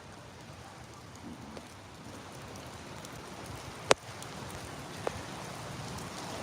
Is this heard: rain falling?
yes